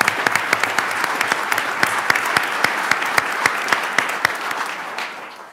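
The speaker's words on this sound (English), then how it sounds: "let's give her a round of applause" A round of applause at a chief judge's swearing-in ceremony, steady crowd clapping with a few sharp individual claps standing out, fading toward the end.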